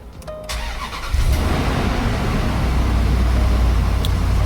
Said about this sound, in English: We're now going to start the car.